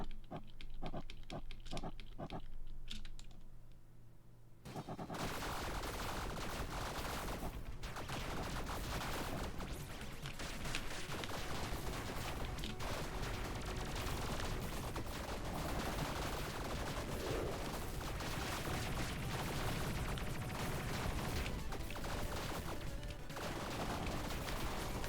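Sustained rapid gunfire in a video game, a dense loud barrage that starts abruptly after a few quieter seconds and continues without letup.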